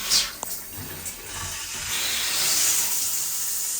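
Hot water running from a two-handle shower faucet with newly replaced knobs and trim, a steady broadband hiss of spray that grows after a couple of soft knocks and continues evenly.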